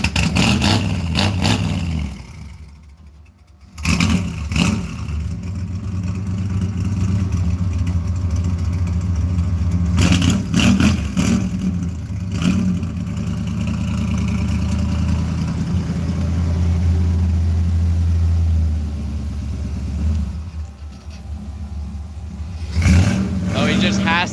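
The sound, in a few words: Ford Mustang Mach 1 driving off, engine revving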